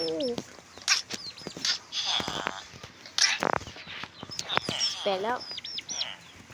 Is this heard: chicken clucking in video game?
yes